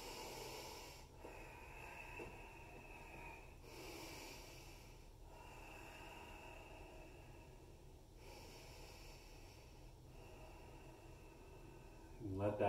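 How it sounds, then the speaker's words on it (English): Slow deep decompression breaths during a yoga session, three long airy inhales and exhales with a soft hissing nasal quality, close and quiet, spaced a few seconds apart with no talking. "We'll do 3 decompression breaths here."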